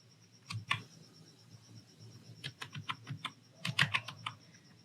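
Fingers type on a computer keyboard in short uneven bursts of soft clicks, with a cluster of quicker keystrokes near the end, close but quiet in an otherwise still room.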